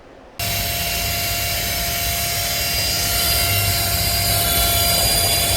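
An Autofy handheld car vacuum cleaner switches on abruptly and runs with a loud, steady high-pitched whine and rushing airflow, holding constant with no speech.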